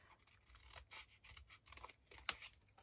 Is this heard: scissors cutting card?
yes